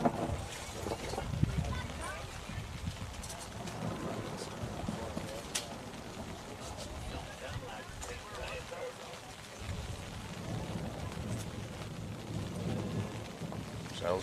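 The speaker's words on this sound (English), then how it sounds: "Sounds like thunder." Thunder rumbles through a rainy outdoor softball game between the Corning Bobcats and Piggott Mohawks, a continuous low roar over steady rain noise, with a commentator talking over it.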